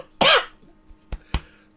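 A person coughs: one long harsh hacking burst, then two short sharp coughs spaced apart, close and fairly loud in a quiet room with no talking.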